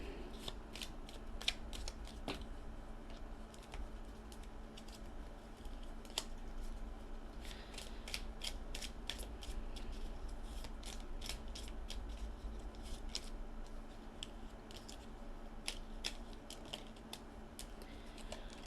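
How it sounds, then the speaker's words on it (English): Small tarot cards are shuffled in repeated bursts of crisp riffling and soft flicks, quiet and close, with irregular pauses between rounds and no talking. "I was hoping that my cards would behave themselves today as I was shuffling"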